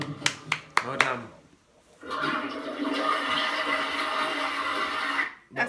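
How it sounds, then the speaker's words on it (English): A toilet flushes with a rushing, swirling gush of water that holds steady for a few seconds, preceded by several sharp knocks and clicks, with voices heard at moments. "That's the toilet being flushed."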